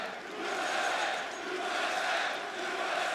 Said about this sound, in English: Listening to the chants.